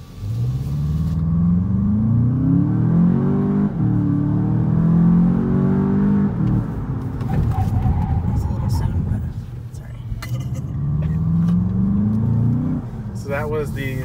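Volkswagen GLI engine in sport mode, heard from inside the car as it accelerates with rising revs and then drops off under braking, a loud steady rumble with some artificial engine sound mixed in.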